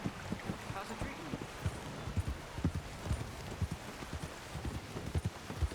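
Horse hooves clip-clopping at a walking pace in the video game Red Dead Redemption 2, steady and fairly close over a soft ambient bed.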